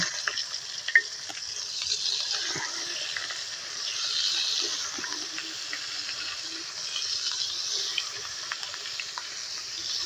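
Koi fish frying in hot oil in a wok, a steady broad sizzle with scattered pops and crackles, continuous and close throughout with no talking.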